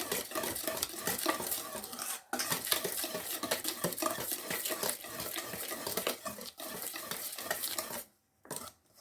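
Cookie dough being mixed in a bowl, with continuous close scraping and stirring strokes, steady and busy, broken by a few brief pauses near the end.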